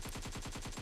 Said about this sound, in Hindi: फिर कुछ लोग AK-47 लेकर एक बुढ़िया को सोफा पे बैठे बैठे भून देते हैं।